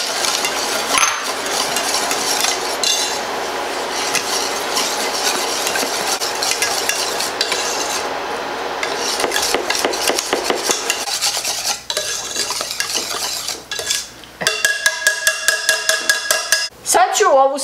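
Chocolate walnut roll mixture thickening in a pot is stirred steadily, a continuous scraping swirl with clinks of the utensil, growing brighter and more clattery toward the end.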